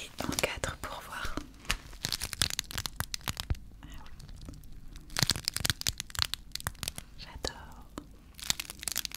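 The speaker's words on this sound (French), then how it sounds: "Je sais pas si c'est les ventouses ou tout simplement le plastique qui se colle à lui-même." A transparent plastic bath mat with suction cups is folded up, giving dense crinkling, crackling and peeling snaps close by, while a soft voice speaks quietly over it.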